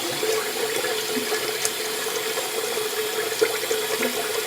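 Tap water runs steadily to rinse off after a shave, a constant splashing stream from a faucet with no talking.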